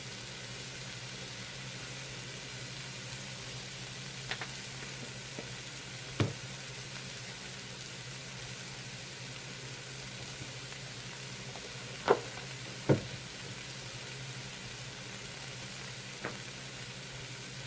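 Tuna puree sizzling steadily in a pan, a continuous soft frying hiss broken by a few scattered clicks and taps of a utensil.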